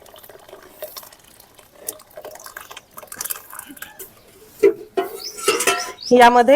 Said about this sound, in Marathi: थोडं गरम पाणी मी घातलं आहे